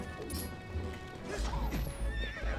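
Horse neighing and clip-clopping hooves in The Legend of Zelda: Twilight Princess HD, a whinny over the first second followed by heavier, rumbling hoofbeats and game sounds, with no talking.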